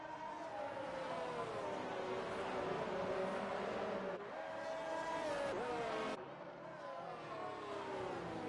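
Formula One cars race through Monaco in the rain in F1 2019, a racing video game, as a steady high engine whine shifts pitch up and down through gear changes, with a few abrupt cuts, under a commentator's voice.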